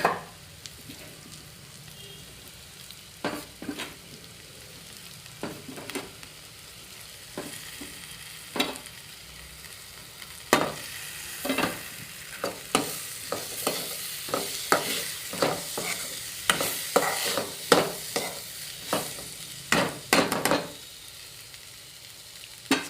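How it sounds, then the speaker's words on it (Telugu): Tomatoes frying with mixed vegetables in a pan for a home-style curry, a steady sizzle broken by repeated scraping stir strokes that grow busier and louder toward the end. "టమాటా వేసి ఒక 5 minutes వదిలేద్దాం"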